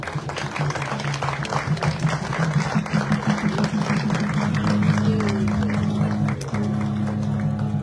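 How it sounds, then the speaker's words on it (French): A crowd claps steadily for several seconds at a memorial tribute, the applause dense and even, with a low sustained tone running underneath. "Serge Ouello mérite nos applaudissements, nous pouvons l'applaudir"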